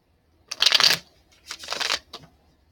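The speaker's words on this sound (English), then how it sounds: "I'm going to do a little bit more shuffling" Tarot cards are shuffled up close in two brisk riffling bursts, crisp and papery, separated by a short pause.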